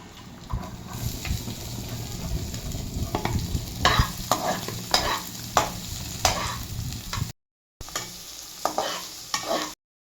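Onion and garlic frying golden in a pan, a loud, close sizzle broken by repeated scraping stirs, with the hiss continuing between strokes before cutting off.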